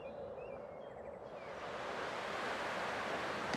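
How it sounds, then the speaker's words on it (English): Ocean waves in Honkai: Star Rail, a steady broad wash of surf that swells slightly louder over a few seconds, soft and continuous with no voices over it. "I can still clearly hear the sound of the waves."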